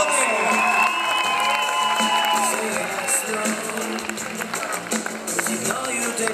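A crowd cheers and applauds champions at a competitive match. Loud, continuous crowd roar carries whoops and shouts, and a sustained tonal element runs through the first half, dense and close throughout.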